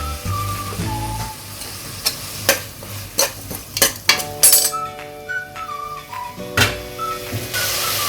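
Mutton keema going into a hot cooking pan and being stirred, giving a steady sizzle with a string of sharp scraping and clinking knocks from the spoon against the pan.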